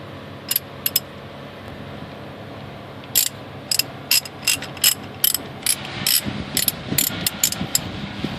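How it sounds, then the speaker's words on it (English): A ratchet wrench loosens a banjo bolt on a car brake caliper with a clamped hydraulic hose, giving close, sharp ratcheting clicks in short irregular bursts that quicken toward the end. "I'm going to undo this banjo bolt here and disconnect the hydraulics"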